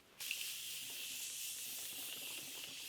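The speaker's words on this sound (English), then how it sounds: "I'm going to set the face with the Morphe Continuous Setting Mist." Morphe Continuous Setting Mist sprayed onto a face, a sudden soft hiss that starts abruptly and continues as a steady fine spray, close and quiet with no talking.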